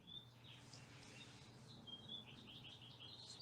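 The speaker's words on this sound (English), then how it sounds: "Those birds are so nice. Those are natural little birds" Small natural songbirds chirp outdoors in a quick, high, scattered series of tweets, faint and fairly distant over a steady low background hum, with no talking.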